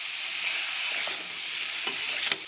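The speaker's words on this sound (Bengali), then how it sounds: "এবার ভালো করে নেড়ে দেওয়ার পালা।" Radish greens tossed into shrimp frying in hot oil give a bright, even sizzle, with a couple of soft stirring knocks near the end and no voices.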